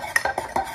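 A spoon stirs coffee in a cup with a few quick, close clinking scrapes in rapid rhythm, brief and fairly loud with no talk.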